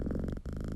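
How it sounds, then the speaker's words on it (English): A cat purrs from a relaxation app, a close, steady, rumbling purr with a rhythmic pulse and one brief dip in the middle, heard alone. "This is the purring cat."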